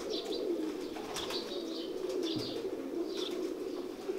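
Kamal pigeons cooing in a loft, a male paired with a female, repeated soft throaty coos close by over a steady background hum.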